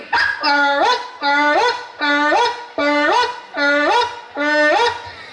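A human voice imitates a barking dog with six drawn-out, yelping barks. They come at an even, steady rhythm, close and loud, with no other talking.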